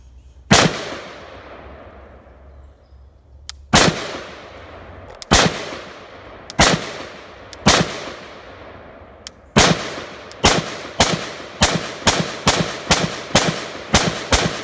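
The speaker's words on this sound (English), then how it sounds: "I'm going to take a few shots with this Dolos and see what it does." A Pantheon Arms Dolos rifle fires about fourteen sharp, loud, close shots, each ringing out with a trailing echo: several spaced a second or more apart, then a quicker string of evenly paced shots at the end.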